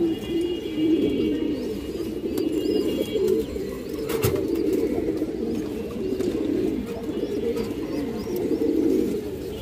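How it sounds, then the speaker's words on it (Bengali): A pure green-necked female pigeon coos in a continuous low warble among other birds, with faint chirps and a sharp knock partway through. "একটা সবুজ গলা মাদি কবুতর, একদম পিওর সবুজ গলা মাদি কবুতর"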